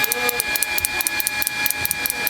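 A blower motor runs during repair of a Susan 735 model no.9 unit, giving a steady whirring hum with a regular rapid ticking pulse throughout, close and fairly loud.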